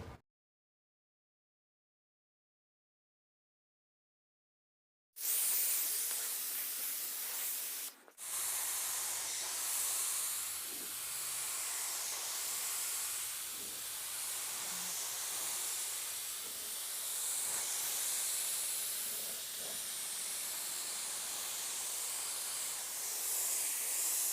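After several seconds of silence, a budget paint spray gun hisses steadily and continuously at close range, spraying sealer onto a car door, broken only by one brief pause.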